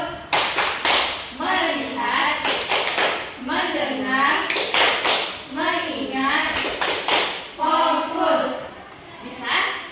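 Children in a classroom play the tepuk fokus clapping game, led by a teacher. Bursts of sharp, synchronized claps alternate with group chanting, and the pattern repeats in a steady rhythm several times.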